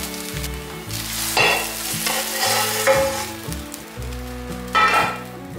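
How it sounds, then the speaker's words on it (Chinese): Food frying in a wok with a steady sizzling hiss and occasional stirring scrapes, heard alongside continuous melodic background music. "把它放进锅子里，继续煎"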